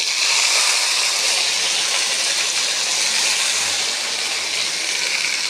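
Curry leaves dropped into hot oil for capsicum gravy, already seasoned with cinnamon and cloves: a loud, continuous broadband sizzle and hiss held steady and close throughout, with no talk over it.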